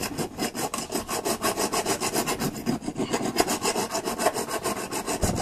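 A tool scrapes repeatedly across brass scrap metal, producing a steady rhythm of rasping strokes, close and fairly loud, with no talking.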